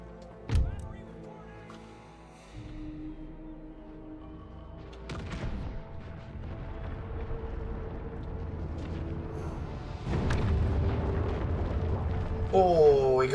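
Cannon fire in Empire: Total War booms out in scattered deep blasts, an early sharp report followed by rumbling volleys that build toward a heavier barrage near the end, with a player talking over it.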